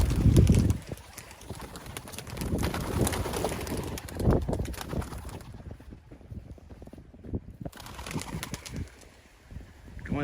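Racing pigeons returning from a six-mile toss arrive at the loft, with wing flaps, cooing and shuffling over a busy outdoor background, loud bursts near the start and scattered bird activity throughout.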